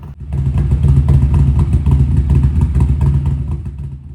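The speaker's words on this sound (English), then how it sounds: "Neither of us are too big a fan of motorbikes, but this Indian was absolutely beautiful" An Indian motorcycle at the Adelaide Motorsport Festival, its engine idling and revving with a loud, steady, deep rumble close by for several seconds.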